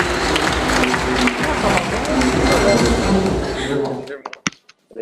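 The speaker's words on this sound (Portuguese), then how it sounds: "eu gostaria que vocês me ajudassem a receber com uma calorosa salva de palmas o nosso diretor jurídico" An audience gives a warm round of applause welcoming a legal director to a legal debate, a dense sustained wash of clapping from a crowd that cuts off abruptly near the end, leaving a few isolated claps.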